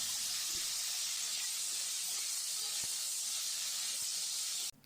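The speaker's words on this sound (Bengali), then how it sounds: "এবার আমরা আলু ভাজা করে নেব।" Cubed potatoes frying in oil in a kadai, a steady soft hiss of sizzling that holds evenly throughout with a few faint clicks, then cuts off abruptly at the end.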